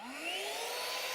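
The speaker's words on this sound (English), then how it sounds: "So the first step is we turn on the vacuum." A Hilti SafeSet dust extraction vacuum spins up before drilling for chemical anchors, a steady close whirring drone with a rising whine, running alone.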